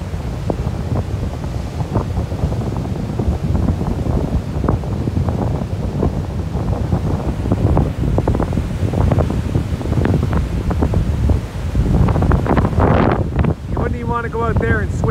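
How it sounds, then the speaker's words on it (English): Strong dry-season winds on the coast at Pedasi buffet the microphone with a loud, continuous roar and gusty rumble, with surf and water movement underneath. "this is the beginning of the dry season and we get some strong winds."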